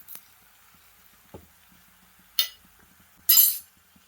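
Chicken pieces are stirred in a metal cooking pot, giving a few sparse clinks and scrapes, with two louder bright metallic knocks of the spoon against the pot near the end, in a quiet kitchen.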